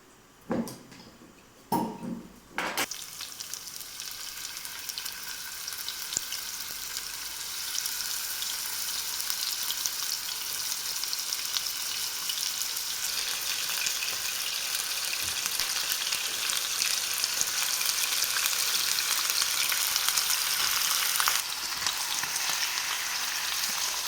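Beef fries in oil in a pan, a continuous close sizzle building after a few brief clatters at the start and holding steady to the end.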